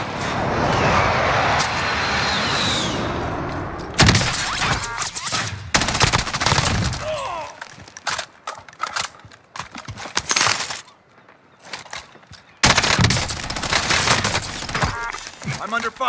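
Dense automatic gunfire in the battle royale shooter Warzone, with bursts of loud, close firing and volleys that rattle on, then a brief lull before another intense barrage; game noise and vehicle sounds mix underneath.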